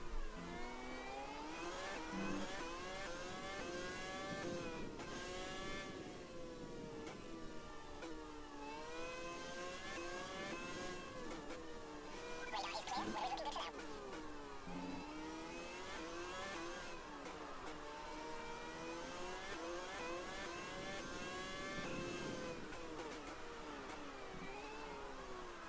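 Formula 1 cars whine along on a formation lap in an F1 racing game, their high-pitched engine tones rising and falling steadily as the engines rev and settle throughout.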